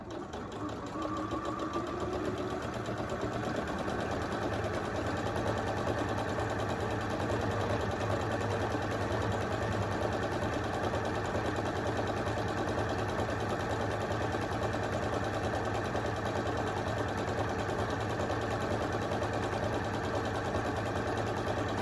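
A sewing machine runs steadily, stitching lanyards for a craft fair: a continuous mechanical whir with a rapid needle rhythm and a low motor hum that holds for the whole stretch, close by and with no talking.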